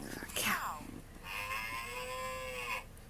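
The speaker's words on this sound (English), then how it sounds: "cow?" A cow's moo comes from a toy or sound app playing farm animal noises, a single drawn-out call of about two seconds after a brief breathy sound, heard clearly at close range.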